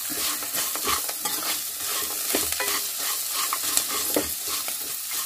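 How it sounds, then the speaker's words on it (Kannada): Tempering for lemon rice sizzling in a pan as a spoon stirs it and coriander leaves are added, soft crackling fry with scraping strokes and light clinks, close and alone. "ನೋಡಿ ಇವಾಗ ಒಗ್ಗರಣೆ ಆಯಿತು, ಇದಕ್ಕೆ ಲಾಸ್ಟಿಗೆ ಒಂದು ಸ್ವಲ್ಪ ಕೊತ್ತಂಬರಿ ಸೊಪ್ಪು ಹಾಕ್ತಾ ಇದ್ದೀನಿ."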